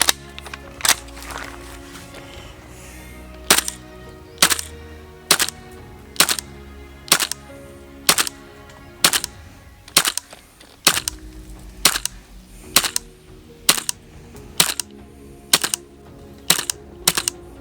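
Tokyo Marui M4A1 MWS gas blowback airsoft rifle firing BBs one at a time, a steady series of sharp, loud cracks about one per second with the bolt's metallic clack, near and alone without talk.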